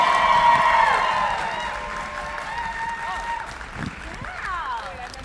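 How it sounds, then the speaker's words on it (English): Anime voice actor panel audience applauds and cheers loudly at a convention, sustained clapping and whoops fading slightly over about five seconds, with a few voices calling out. "give a huge round of applause"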